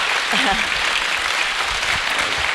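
Audience applause for a poet laureate at a talk, a dense steady wash of clapping filling the whole stretch with faint voices mixed in beneath it.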